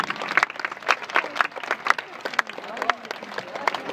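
Outdoor crowd at Aker Brygger in Oslo claps in a loose, uneven patter between car acts, individual claps standing out near and far over background chatter.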